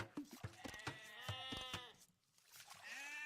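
Sheep bleat repeatedly in a real-time strategy game, several wavering cries overlapping amid game effects and faint commentary voices, with a brief lull before another bleat near the end.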